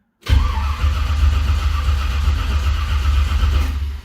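A 1978 Ford Courier truck engine turns over and catches, settling into a loud, steady rumbling idle close by.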